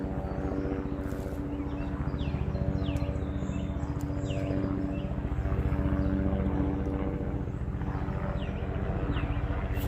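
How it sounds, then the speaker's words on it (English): A helicopter drones overhead above a rain-soaked vegetable garden during a cauliflower harvest, its steady rotor and engine hum holding fairly loud and constant throughout, with faint birdsong here and there. "the helicopter"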